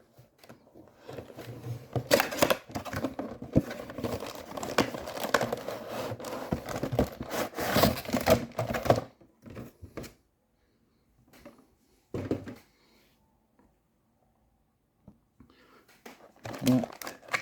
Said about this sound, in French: Je vais ouvrir la boîte.